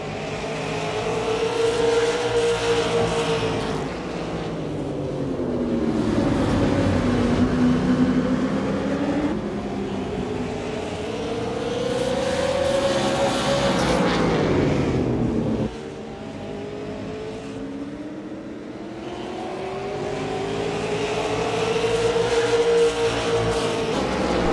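Super late model stock cars lapping Martinsville Speedway, their engines roaring loudly and continuously, rising and falling in pitch as the cars sweep past and accelerate out of the turns.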